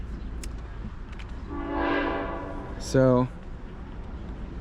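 A New Jersey Transit train pulls into Middletown station on track 2, the New York-bound platform of the North Jersey Coast Line. Its horn sounds twice, a swelling mid-distance blast, then a short, louder one, over steady station rumble and a brief spoken word.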